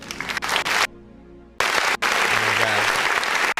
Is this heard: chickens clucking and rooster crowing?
no